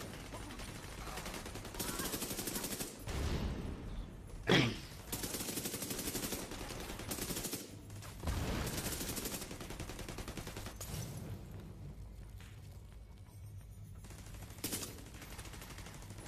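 Enemy gunfire in the video game The Division 2: dense, continuous bursts of automatic fire with brief gaps, loud and sustained throughout, with no talking.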